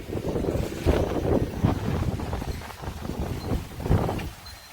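Strong wind during a thunderstorm buffets the microphone with continuous low rumbling gusts, rising and falling in loudness throughout.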